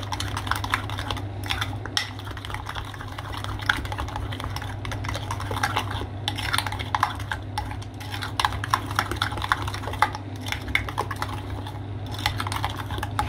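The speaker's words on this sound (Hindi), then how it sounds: "तो मैं इसके अंदर थोड़ा सा शुगर ऐड कर दूंगी और इसको अच्छे तरीके से मिक्स करूंगी" Sugar being stirred by hand into a cheese filling for kunafa, a steady run of small, quick scraping and tapping clicks against the bowl over a low constant hum, with no talking.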